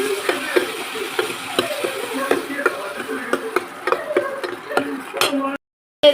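Tomato onion gravy with turmeric stirred in a pan, a rhythmic series of scraping, clattering spoon strokes against metal over soft sizzling, close and moderately loud, ending abruptly.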